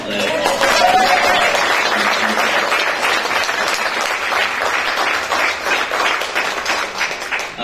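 Sustained room applause at a college board of regents meeting as the coaches stand, dense steady clapping from many people lasting throughout, with a voice briefly audible at the start.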